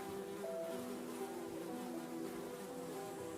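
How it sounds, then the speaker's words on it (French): Flies buzz softly around someone indoors, several faint droning wings overlapping and shifting in pitch over a low room hush, with no speech. "Les mouches bourdonnaient autour de Sébastien"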